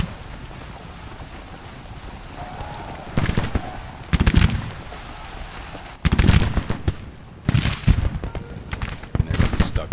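Musket volleys crackle in Grand Tactician: The Civil War as infantry open fire on a brigade at Rapidan Bridge, in several separate bursts of rapid popping over a steady windy rumble.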